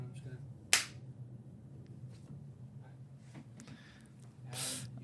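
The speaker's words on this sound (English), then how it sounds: "I gotta clap to sync" A single sharp hand clap snaps once near the start against a quiet room hum, followed by low background noise and faint voices.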